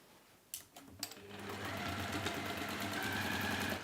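A sewing machine starts with a couple of clicks, then runs at a steady, fast whirring hum, close up, as it stitches across the boxed bottom of a fabric pouch.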